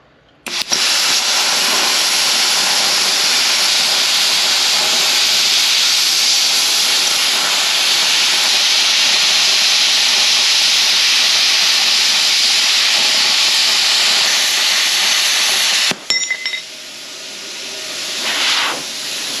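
A budget plasma cutter slicing through metal, a loud, steady roaring hiss held for about fifteen seconds before cutting off abruptly, followed by a brief quieter hiss.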